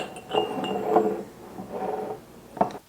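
Glass canning jars clink against each other in a home kitchen while being filled, with soft scattered knocks and one sharper clink near the end.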